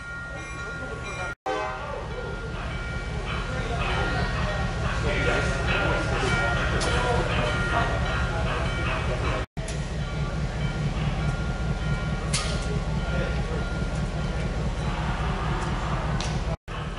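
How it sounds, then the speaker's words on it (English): An HO scale model of locomotive 611 hauls an excursion train on a layout recreating the Strasburg Railroad, with a continuous steady rumble, horn-like tones and a few abrupt cuts in the sound. "Another model of 611, in HO scale, pulls an excursion to paradise."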